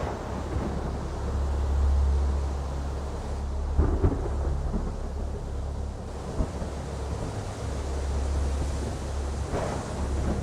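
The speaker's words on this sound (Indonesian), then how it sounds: "ada badai yang sangat besar dan kau masih bisa tidur." A big storm strikes a fishing village, with steady rumbling wind and surf, heavy thunder cracks near 4 and 6.5 seconds, and a continuous low roar throughout. No one speaks.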